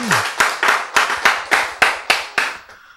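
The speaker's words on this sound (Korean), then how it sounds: "이때는 이제 박수가 한번 나요" Audience clapping in unison at a Korean sermon on love, eight or nine sharp, evenly spaced claps in a steady rhythm that trail off near the end, with no talking over them.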